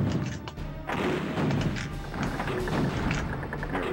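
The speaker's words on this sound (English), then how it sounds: "Well, I like the cannon." Cannon blasts in the Pirates of the Caribbean: Islands of Fortune plug-and-play console game, a series of dull booming thuds at a steady loud level over game background noise.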